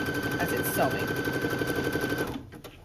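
Sewing machine gathering fabric, a fast, even rattle of stitching close by that runs for over two seconds and then stops, with a faint voice underneath.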